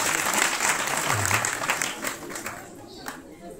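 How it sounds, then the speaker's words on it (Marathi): An audience at a religious kirtan gathering during an Akhand Harinam Saptah in Sakegaon, Buldhana, claps together in a loud burst that thins out and fades toward the end, with voices mixed in. "या या या टाळी वाजवा"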